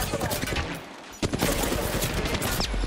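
Gunfire in a battle royale shooter match, dense rapid bursts of shots popping close and loud throughout, with a player's voice mixed in beneath the fire.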